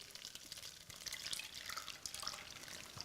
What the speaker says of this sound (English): So pouring my custard through the sieve,